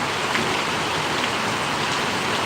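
Heavy rain pours steadily in Parvadi village, Gariyadhar taluka, a dense, even wash of falling water with no pauses and no voices.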